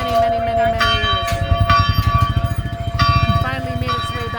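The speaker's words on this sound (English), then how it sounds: "the bell of Batoche is a very big thing too" The bell of Batoche, a large church bell, rings out in repeated loud strikes with long ringing tones, heard over a steady pulsing rumble and what may be voices in the background.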